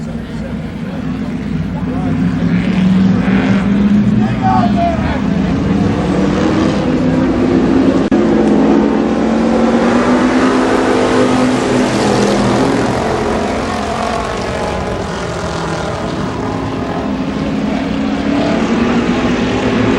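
Street stock cars in an eight-lap heat race at Columbus Motor Speedway in 1992 give a continuous, loud engine roar that rises and falls, with a public-address announcer talking over it.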